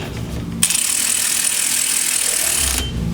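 A ratchet tightens the nuts on a rear wheel bearing assembly during a re-grease, giving a loud, close, continuous rapid clicking run for about two seconds, with quieter handling noise before and after.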